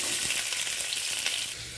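Onions sizzle and fry in hot oil in a pan with spices such as cinnamon and cardamom, a close, steady crackling hiss with light stirring, no voices.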